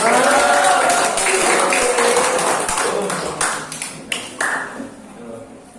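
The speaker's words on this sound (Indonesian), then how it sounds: "Baik, tepuk tangan untuk Sugi." A classroom audience at a teacher-training session applauds a student presenting for his group. Dense clapping starts loud and thins into a few scattered, separate claps as it fades.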